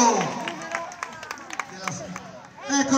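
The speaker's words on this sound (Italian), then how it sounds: "Bravissimo, un applauso" Steady clapping from a crowd at an outdoor event, a dense patter of hands under cheering and chatter, swelling again at the end.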